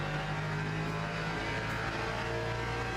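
A Lexus race car in the Le Mans Ultimate racing game drones with a steady, continuous engine hum at sustained speed, loud and even throughout, with no talk over it.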